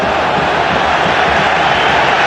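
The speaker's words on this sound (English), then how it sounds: "The crowd are baying for him, second booking." Football stadium crowd at a Champions League match baying at a player, a loud, dense, continuous roar of many voices filling the whole moment without a break.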